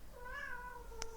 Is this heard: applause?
no